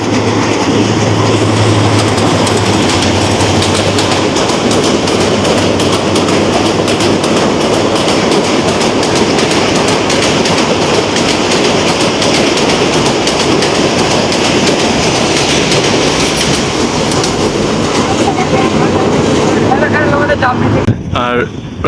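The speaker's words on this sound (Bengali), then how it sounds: "নরসিংদী গুড়াশাল ট্রেন আসতেছে" A train rumbles past loudly and continuously near the Shitalakshya river bridge on the Narsingdi line, with a steady roar, clacking wheels and wind buffeting, fading slightly at the end.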